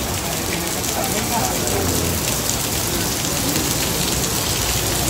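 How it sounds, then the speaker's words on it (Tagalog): Heavy night rain pours down steadily in Vigan, a dense, loud hiss filling the scene without pause. "malakas ang ulan sa Bigan"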